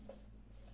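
Chalk or marker writing on a classroom board during a grammar lesson, a faint brief scratching stroke, close but quiet.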